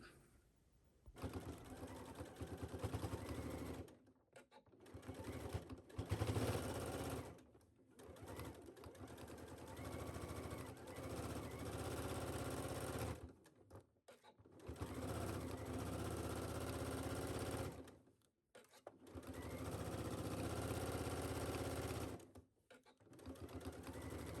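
A sewing machine stitches through all layers of a McCall's 8479 wrap skirt along a 5/8 seam, running in long loud whirring bursts separated by several brief pauses.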